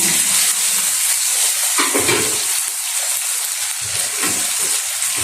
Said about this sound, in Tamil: தக்காளி பழம் போட்டு இஞ்சி பூண்டு பேஸ்ட் போட்டு நம்ம நல்லா வதக்கணும்